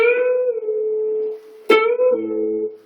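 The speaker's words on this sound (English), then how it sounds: "It's called a tone bend, and it sounds like this." A guitar tone bend: one sustained electric guitar note rings clearly, then a fresh pick attack is followed by a smooth pitch shift, heard alone with no talking.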